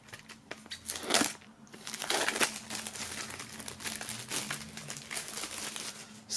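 Plastic shrink-wrap film is peeled off a music CD single bundle after being cut, a continuous close crinkling and crackling with a few louder rustling surges, heard alone without talk.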